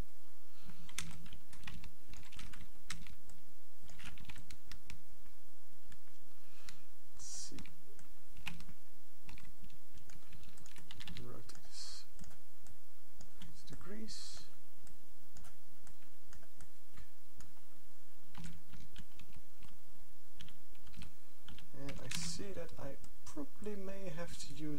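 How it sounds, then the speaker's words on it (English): Keyboard shortcuts tapped on a computer keyboard produce steady, close clatter and clicks across the whole stretch, with someone talking over the typing. "sometimes keyboard shortcuts fail to work."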